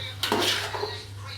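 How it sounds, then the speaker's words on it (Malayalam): A spoon scrapes and clinks against a pot while chicken biryani is mixed, giving a short burst of metallic scraping over a steady low hum, close and fairly loud. "നല്ലപോലെ ഒന്ന് മിക്സാക്കി കൊടുക്കുക."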